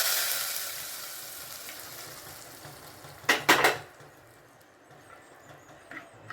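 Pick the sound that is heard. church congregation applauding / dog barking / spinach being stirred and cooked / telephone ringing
spinach being stirred and cooked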